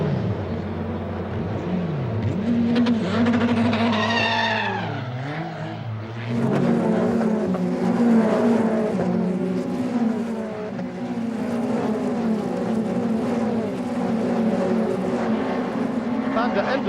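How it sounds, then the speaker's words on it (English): Race cars in a racing video game roar past at speed, with rising and falling engine whines, screeching tire skids and a spin through a corner, loud and continuous while a commentator talks over the action. "Patrick Dirk spins coming through the corner"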